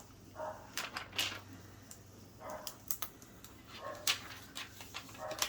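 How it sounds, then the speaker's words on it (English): A small dog barks in short, sharp yips from somewhere across a room, scattered irregularly over a faint hum with light tapping in between. "She's a small dog. She likes to bark a lot."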